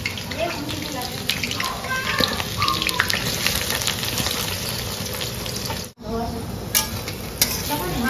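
Onion fries in oil in a kadhai with a continuous close sizzle, broken by stirring scrapes and clatter and one brief drop-out.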